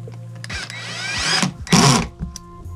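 A power drill with its clutch at the lowest setting drives a screw, whining up in two short bursts with a grinding ratchet as the clutch slips, close and loud.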